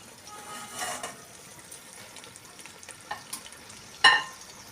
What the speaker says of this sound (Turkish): Köftelerimi önden böyle biraz kızartacağım.